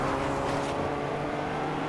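A black Lamborghini engine drones steadily in the Fortnite video game, a continuous loud hum of a car running close by with no break.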